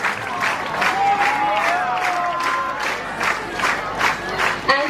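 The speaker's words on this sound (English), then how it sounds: "Let us all give a huge round of applause for Most Reverend George Boliparambil SDB" Crowd at a regional Catholic youth convention applauding and cheering for a bishop: sustained clapping under whoops and shouted voices, fairly loud and full, holding steady for several seconds.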